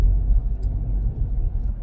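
Steady low engine rumble of a car crawling along in slow traffic, a continuous muffled drone close by with no distinct passing vehicles or horns.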